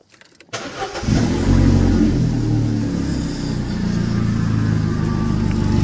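A Vauxhall Corsa, under diagnosis for overheating, cranks briefly and fires up, then settles into a steady, close engine running that holds loud and even with no talk.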